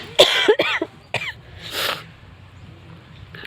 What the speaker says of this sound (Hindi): खांसी बहुत आ रही है दोस्तों।